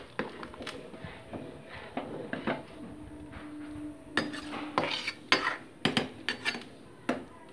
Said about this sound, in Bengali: দিয়ে ভালো মতো মিক্সড আপ করে নিচ্ছি